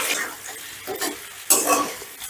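Potatoes fry with whole spices in a pan for yakhni pulao, stirred with sharp spatula scrapes and clinks over a steady hiss, loud and close.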